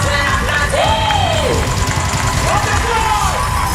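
An audience cheering and yelling at a live show, a steady wall of crowd noise with whoops rising and falling and a voice calling out over it.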